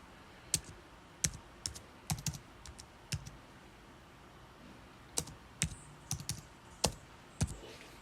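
Someone types on a computer keyboard in Photoshop Elements, sparse clicking keystrokes in small irregular clusters with pauses between, close and quiet against a faint background, no talking.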